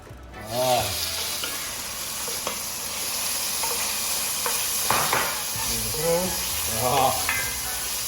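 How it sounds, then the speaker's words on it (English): Shrimp sautéing in a pan for shrimp spaghetti in basil tomato sauce: a steady close sizzle runs throughout, with occasional scrapes and stirs, and a voice speaks intermittently over it. "let's start by sauteing our shrimp"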